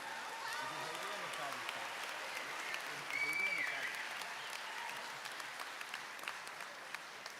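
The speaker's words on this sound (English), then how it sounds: "Let's give another round of applause for our medical assisting students." Audience applause at a school recognition ceremony for medical assisting students, a steady moderately faint wash of clapping heard from a distance across the hall, with some voices underneath.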